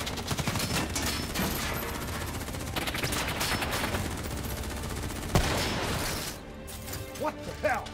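Dense, sustained gunfire from a Call of Duty Black Ops 3 campaign firefight fills the scene, with a sharp impact near the middle. Voices talk over the shooting, which thins out toward the end.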